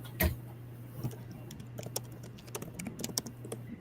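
Fingers type on a low-profile computer keyboard with shallow keys, giving a quiet run of soft, irregular clicks close to the microphone, with one louder tap near the start and a faint steady hum underneath.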